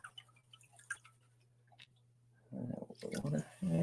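Water and gravel pay dirt swirled in a gold pan, starting after a quiet stretch of faint ticks and drips and turning into a fairly loud, close, gritty sloshing for the last second and a half.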